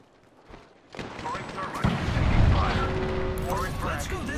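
Video game gunfire in Apex Legends: a few sharp shots amid rising rumbling explosions and mechanical noise, loud and close, with a game voice talking over it.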